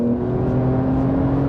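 A Porsche 992 911 with its sports exhaust engaged gives a steady, close, loud droning engine note with a firm low hum, sustained without a break and with no voices.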